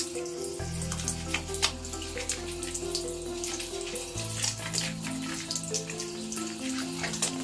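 Hands being rinsed under a running tap, a steady close stream of water splashing into a sink with shifting tones as the hands move through the flow, with no voices.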